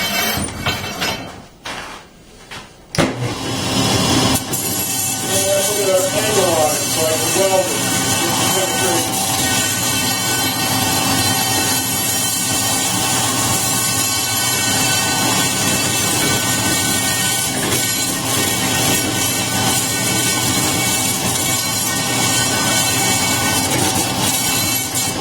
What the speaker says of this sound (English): And then I take it over to the sander over here.